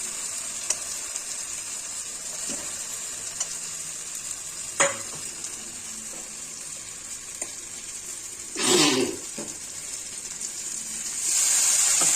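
A steady, close sizzle of fish curry masala frying in oil in a pan, with occasional light clicks and a brief louder splattering burst as fried potatoes are added, then the hiss swells again near the end.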